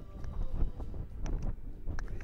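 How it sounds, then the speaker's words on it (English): Gusty wind rumbles and buffets the microphone in low uneven surges while metal detecting outdoors, with a few faint higher clinks and sounds in the background. "very windy and I've had enough now"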